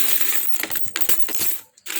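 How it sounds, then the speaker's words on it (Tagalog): Small change at a store: coins dropping and clinking together in a quick jumble of close metallic chinks, a brief pause, then more clinking. "Barya-barya lang guys."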